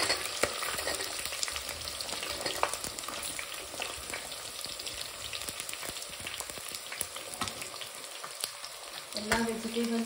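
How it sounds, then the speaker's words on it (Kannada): Mixed vegetables for a vegetable biryani frying in a pan, with a continuous close sizzle and crackle broken by scattered stirring clicks. "ಆಮೇಲೆ ಎಲ್ಲ ವೆಜಿಟೇಬಲ್ಸನ್ನು ಹಾಕೋತೀನಿ"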